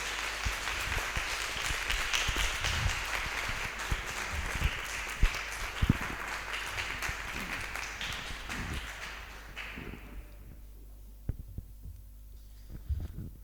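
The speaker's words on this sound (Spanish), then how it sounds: "un aplauso al Señor" Applause from a Spanish-speaking Bible study audience, sustained clapping for about nine seconds that then abruptly fades, leaving a low hum with a few stray claps and thumps.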